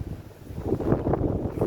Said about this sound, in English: The wind was strong there.